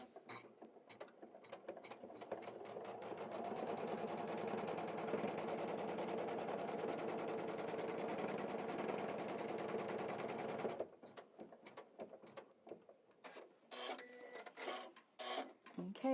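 An embroidery machine stitches a design in a steady, rapid mechanical whir for about eleven seconds, then stops, leaving quieter handling clicks and rustles; moderately faint and close.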